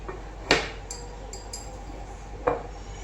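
A small spoon tips baking soda into a mixing bowl for balushahi dough, giving two light, close metallic clinks about two seconds apart against quiet room hiss.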